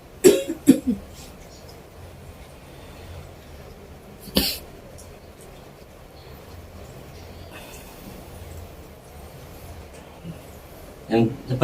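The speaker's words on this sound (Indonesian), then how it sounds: "Yang cepat batuk itu dari kamu di tempat situ" A person coughs in a few sharp, separate bursts: two close together at the start, one in the middle and another at the end, against quiet room background.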